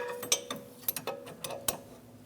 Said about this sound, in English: I'm going to use a 10mm wrench. I'm going to get that installed around it.